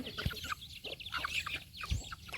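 Several chickens cluck in short, scattered bursts nearby, with a few low thumps in the background.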